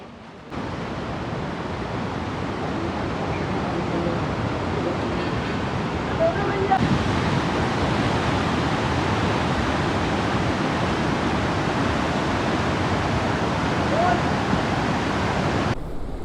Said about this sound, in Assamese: আমি আজি আহি উপস্থিত হ'লোহি সৰস্বতী নদী, সৰস্বতী ধাম।